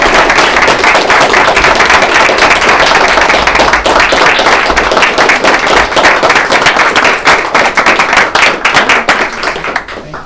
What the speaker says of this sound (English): can we give our explorers a hand of applause?